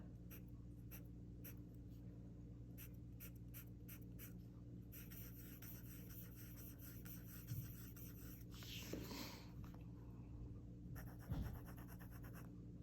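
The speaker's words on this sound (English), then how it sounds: "I hope you can hear all of this, because now it doesn't even sound as scratchy anymore." A Sailor Hocoro dip pen nib scratches across paper in quiet, close strokes, with short rhythmic bursts early on and longer rasping scratches later over a low steady background hum.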